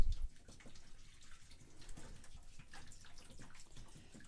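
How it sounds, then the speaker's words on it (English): Rainwater from a rain barrel pours out of a gallon jug into a potted tree in a basement, a steady close splashing trickle that runs without a break for several seconds. "this is a gallon jug of water from my rain barrel."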